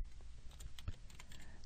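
Computer keyboard typing out a name in 3ds Max: a quick, steady run of close key clicks over about two seconds, with no talking and a faint low hum underneath.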